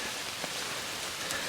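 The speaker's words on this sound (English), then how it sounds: "It's raining." Steady rain falling on a hiking trail of the Appalachian Trail, a dense, even hiss with no voices.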